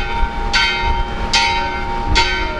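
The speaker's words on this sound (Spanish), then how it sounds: "Y se oyen las campanas, porque ya va a haber boda" Church bells ring before a wedding, sounding three evenly spaced, resonant strikes that each ring out under a low background murmur.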